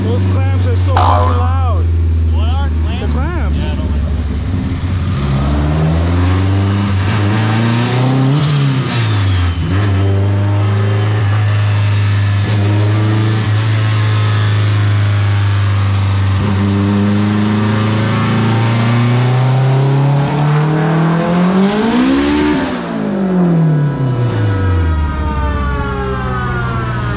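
A 1200 HP Toyota Supra runs on a dyno with a loud sustained engine drone, rising and falling revs with swooping sweeps up and back down, close and continuous throughout.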